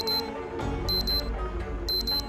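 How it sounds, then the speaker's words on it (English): An alarm clock rings in a video game with three short bursts of rapid electronic beeping at a regular pace. Each burst is clear and loud over a steady low hum. "I woke up with my alarm"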